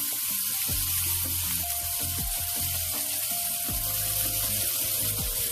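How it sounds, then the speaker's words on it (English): Steak fries in a hot, smoking pan with a continuous loud sizzle, close up, and occasional clinks and scrapes under the hiss. "Once you can see the smoke, we're going to add the steak."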